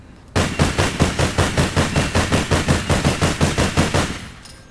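An SR-15 rifle in the APB Reloaded video game fires a rapid, steady burst of about twenty loud, evenly spaced shots over four seconds, then stops abruptly.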